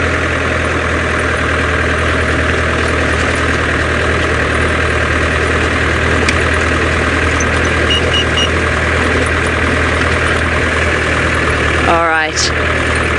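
The engine of a safari vehicle on an evening game drive runs in a loud, steady low rumble throughout, close by, with a brief whine near the end and no clear talk over it.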